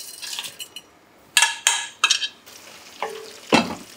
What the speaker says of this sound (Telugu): ఇక్కడ బీట్రూట్ రైస్ కోసం తాలింపు వేగుతుంది.